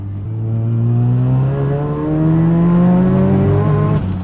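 A turbocharged Mazda RX-7 FD sports car accelerates hard in third gear, its rotary engine rising in a loud continuous climbing drone from inside the car, with a high whine above it and no talking.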